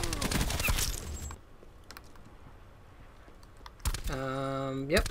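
Bursts of rapid gunfire in the Black Ops 4 video game, fired from the Hades with full attachments, crackle at the start, followed by quieter game ambience and a rising electronic tone near the end.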